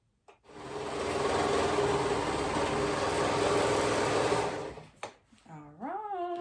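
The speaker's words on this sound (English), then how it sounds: "So I'm gonna go ahead and sew that on" Sewing machine stitching steadily through three layers of a clover dress, a continuous loud mechanical whir for about four seconds, then stopping as a voice starts talking.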